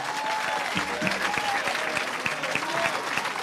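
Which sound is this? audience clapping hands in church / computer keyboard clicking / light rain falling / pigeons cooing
audience clapping hands in church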